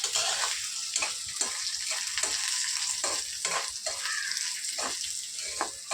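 Dal frying in a pan with salt for idli chutney, giving a bright continuous hiss with regular scraping stir strokes about once a second, close and moderately loud, no voices.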